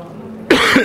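A single harsh cough bursts out close by after a brief quiet moment.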